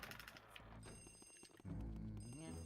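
An old telephone rings insistently in the haunted telephone room of Luigi's Mansion, its bright trilling bell repeating over a loud droning game soundtrack that swells midway.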